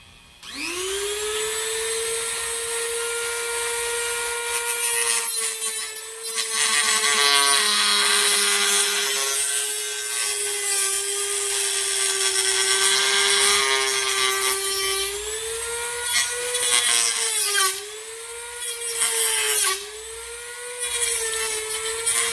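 Power tool cutting off a part during assembly of an MK3 MasterKey, a steady high whine with dense harsh overtones that holds for most of the clip, dips briefly and then returns with a few wavering pitch changes.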